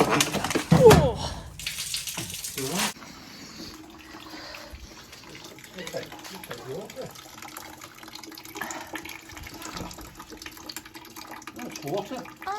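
A brief burst of running water from a pipe on a Land Rover Freelander 1 splashes loudly at the start, then fades to a quiet trickle under low talking and movement.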